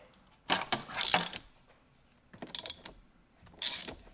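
A ratchet wrench working a Torx T50 bolt that secures a seat belt to the seat in a BMW E90, in three short bursts of clicking with pauses between, close and fairly quiet.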